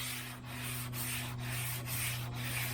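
Rhythmic block sanding strokes over primer on the body of a 1977 Malibu Classic, a steady rasping rub with regular pulses roughly every half second, close and continuous under a constant low hum, no talking.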